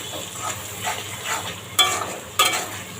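Red amaranth greens with shrimp being stirred in a frying pan, a steady soft sizzle with scraping strokes and two sharper utensil clinks near the end, close and alone.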